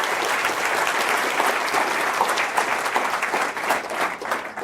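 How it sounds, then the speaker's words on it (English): Steady, dense applause from an audience filling a Stanford lecture hall as a venture capitalist is welcomed back, sustained and fairly close for the whole stretch with no speech over it. "let's give him a warm round of applause."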